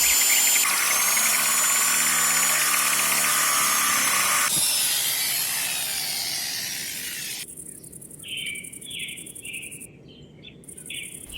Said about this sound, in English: Drilled the squares for the bolt.